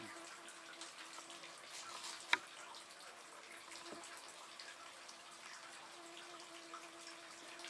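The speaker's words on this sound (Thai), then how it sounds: "มีแค่นี้น้ำไหลตลอดปีตลอดชาติ" Spring water trickles softly and continuously inside a cave at a stone temple site, a faint steady flow with one sharp drip or tap standing out, in quiet surroundings.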